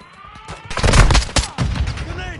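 Rapid gunfire from the video game Call of Duty MW II, with dense overlapping bursts of automatic shots building to a loud, sustained barrage and continuing through to the end.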